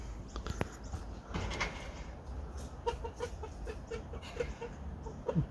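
Soft clucking from chickens nearby, short scattered calls over a quiet outdoor background with a few light knocks.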